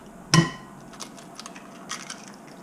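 Two eggs are cracked into a large bowl of meatloaf meat mixture: one sharp crack against a hard edge, then a few soft, faint clicks and handling noises.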